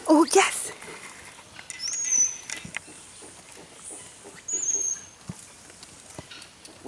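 Baby monkeys at a wildlife reserve in Barbados give a few brief, thin, high mouse-like squeaks, spaced apart, over light rustling and handling noises close by.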